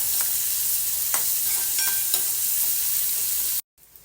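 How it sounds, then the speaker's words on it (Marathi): Onions fry in a pan with curry leaves until browning, giving a steady close hiss and sizzle broken by a few light stirring clicks before the sound cuts off abruptly. "कांदा चांगला आता फ्राय करून घ्यायचा ब्राऊन होईपर्यंत चांगला फ्राय करायचा"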